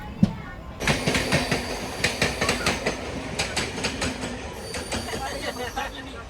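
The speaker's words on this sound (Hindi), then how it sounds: "हम बहुत दिन बाद ट्रेन में यात्रा कर रहे हैं ना" A moving Anand Vihar to Kotdwar Express passenger train, heard from inside with steady rumble and rhythmic wheel clacks over the rails, close and continuous, with faint voices underneath.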